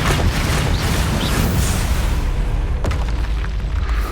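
A Confringo explosive spell from the Hogwarts Legacy video game gives a loud, sustained roaring blast that rumbles steadily through the whole stretch, with a few sharp pops late on.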